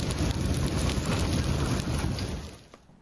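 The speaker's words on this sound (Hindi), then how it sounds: "डेरा इस्माइल खान में तूफानी बारिश हुई है।" Heavy stormy rain with gusting wind in Dera Ismail Khan, a dense steady roar of downpour that stays loud before easing off toward the end, with no voices.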